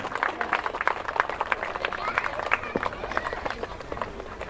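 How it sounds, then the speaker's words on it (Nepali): Audience at a savings and credit cooperative's annual general assembly claps in a dense, steady patter of many hands, moderately close, with a voice faintly under it. "हामीले पनि ताली बजाएर"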